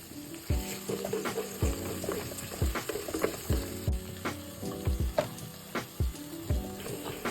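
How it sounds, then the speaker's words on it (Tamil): Onion, ginger-garlic paste and chili powder sauté in a pan with a soft sizzle under repeated scraping stirs of a spoon, a rhythmic knock every second or so. "கொஞ்சமாக இஞ்சி பூண்டு சேர்த்துட்டு மிளகாய் தூளும் சேர்த்து நல்லா வதக்கிக்கோங்க"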